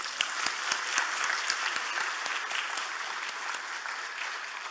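A church congregation at a Friday worship service gives warm applause honoring the men of the choir, with dense, steady clapping that fades slightly toward the end.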